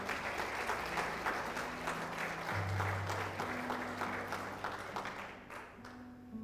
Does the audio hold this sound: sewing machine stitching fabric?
no